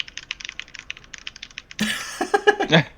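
Rapid clicky keystrokes patter on a computer keyboard during a gaming session, then a denser burst of louder key hits and clatter toward the end, close and with no talking.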